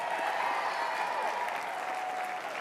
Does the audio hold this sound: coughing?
no